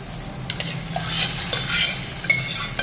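Pav bhaji vegetables are mashed and stirred in a pan, with a faint sizzle under repeated scraping and knocking strokes from the utensil against the metal.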